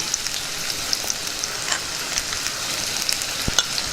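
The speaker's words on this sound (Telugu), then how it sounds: "పచ్చిమిర్చి ముక్కలు కూడా వేసేద్దాం దీన్ని బాగా వేయించుకుందాం" Green chilli pieces frying in a pan for a green pea paneer curry, a steady close hiss of hot oil with small crackles and pops scattered throughout, and no voices.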